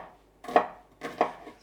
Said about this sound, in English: dicing up one onion and I'll slice one up